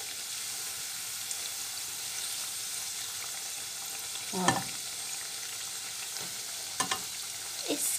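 Donuts frying in a pan of oil give a steady, faint hiss of sizzling, broken by a few louder clatters and scrapes as they are turned; a voice speaks one short word.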